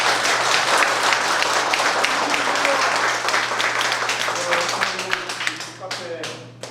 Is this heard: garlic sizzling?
no